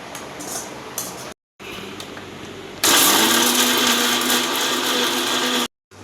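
A mixer grinder grinding cooled mint leaves whirs in short bursts, then roars loudly and steadily for several seconds before cutting off abruptly.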